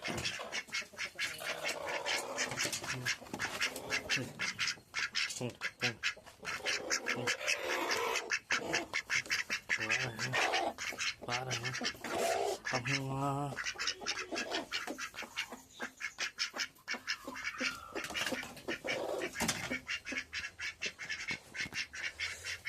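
Dense, loud bird calling fills the scene, many harsh repeated cries overlapping continuously, like a flock of noisy fowl close by.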